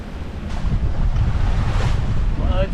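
Wind roars and waves wash steadily around a sailboat on the open Atlantic on a blustery evening, loud and constant, with gusts buffeting the microphone and the hiss of surf throughout.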